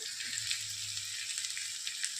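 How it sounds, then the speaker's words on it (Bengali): Diced potatoes fry in a pan with onion and chili, making a soft, continuous sizzle with no break over a couple of seconds. "এবারে আমরা এতে আলুর কুচিগুলো যে করে রেখেছি সেই আলুগুলো দিয়ে দেবো ভাজা করতে"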